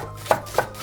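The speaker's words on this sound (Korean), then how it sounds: "대파도 한 개 쫑쫑 잘라줘요." A kitchen knife finely chopping a green onion (daepa) on a board, two quick, sharp taps close by over a soft background.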